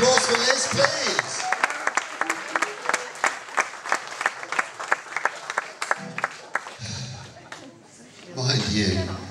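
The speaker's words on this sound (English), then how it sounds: "So can we have a big round of applause for Liz, please?" Clapping from a party crowd at a retirement party in a room, a steady round of applause with distinct claps that fades, with murmured voices and laughter at the start and end.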